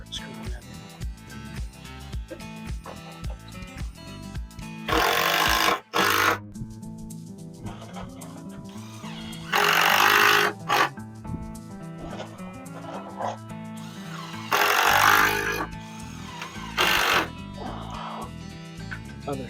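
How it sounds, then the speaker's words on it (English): A power drill drives screws into the wooden uprights of a target stand in three loud, separate bursts of about a second each, with a quieter steady tonal background between them. "Uprights are pretty straight, so we'll start screwing that in."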